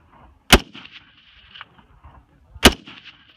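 Two sharp rifle shots fired at long-range targets on a shooting range, about two seconds apart, each loud and close with a brief ringing tail, and quiet between them.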